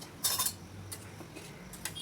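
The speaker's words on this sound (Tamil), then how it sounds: "நல்லா கிளறி விடுறோம்" A ladle stirs oily brinjal curry in a metal pot, making faint, scattered metallic clinks and scrapes over a low background hum.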